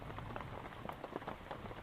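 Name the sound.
heavy rain falling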